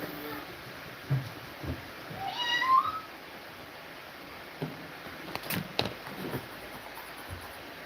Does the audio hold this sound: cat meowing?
yes